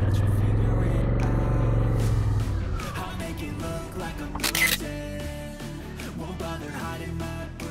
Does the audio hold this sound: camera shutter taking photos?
yes